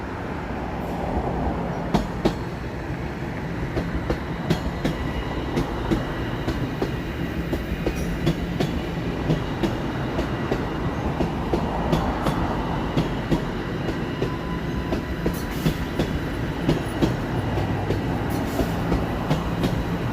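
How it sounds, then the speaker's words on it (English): A Toronto subway train rolls past, its steady rumble and rhythmic clickety-clack of wheels on rail continuing at a moderate distance for about twenty seconds, with faint squeals and no talking. "I hear another train coming."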